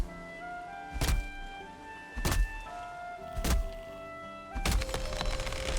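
Four loud, evenly spaced chopping thunks of an axe biting into a tree in the Valheim video game, each a sharp impact with ringing tail, over a quiet background.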